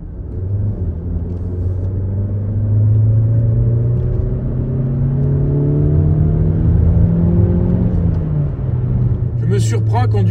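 Mazda CX-30 engine under spirited driving, heard from inside the cabin as a loud, steady low drone whose pitch climbs and falls with revs.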